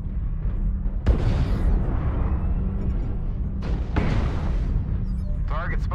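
Artillery strike in an all-out-war faction video game: heavy booming impacts land twice amid a constant rumbling battlefield din, with a sharp crackling burst near the end, and a voice talking over it.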